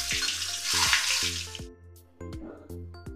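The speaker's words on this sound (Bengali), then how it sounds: "বেগুন ভাজার বেগুন আমি দিয়ে দিচ্ছি কড়াইতে।" Eggplant slices drop into hot oil in a wok and sizzle loudly for over a second, then the frying fades to a faint crackle beneath steady musical tones.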